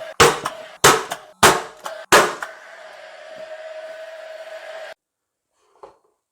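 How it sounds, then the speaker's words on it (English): A hammer drives nails into a sauna wall panel, four sharp close strikes in a row, followed by a lingering hum and then a short faint knock after a silence. "Let's nail it."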